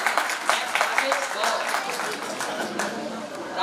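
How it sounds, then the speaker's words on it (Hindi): A talent-show audience claps steadily, with dense, continuous applause filling the hall at moderate loudness, partly mixed with a voice. "जोरदार तालियां"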